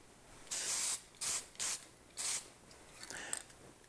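Rattle-can lacquer sprays onto a small wooden woodworking project in four short, sharp hissing bursts, close by, followed by a softer, sputtering spray at the end.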